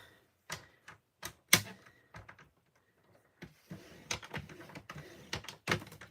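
Card paper is scored on a scoring board in a run of sharp, irregular clicks and taps, close and dry, with quiet gaps between them and no speech.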